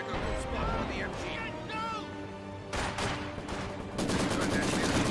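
Heavy machine gun fire in a war strategy game, bursts of rattling shots mixed with other battle noise, starting after a voice speaks and growing denser toward the end.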